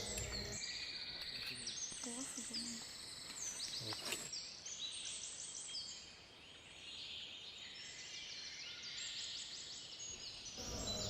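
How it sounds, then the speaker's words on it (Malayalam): Many birds call in the dawn forest of a Myristica swamp at Kattalappara, with overlapping high chirps and whistles throughout, some insect buzz, and a faint quiet ambience between calls. "രാവിലെ തന്നെ നമ്മൾ വനത്തിലേക്ക് കയറിയപ്പോൾ ഒരുപാട് പക്ഷികളുടെ ശബ്ദമൊക്കെ കേൾക്കുന്നുണ്ട്"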